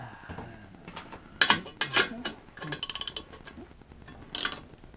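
Ratchet with a 3/4 inch socket tightening grade 8 bolts on a Linotype lifter, quick faint clicking bursts in a quiet workshop, alone without talk.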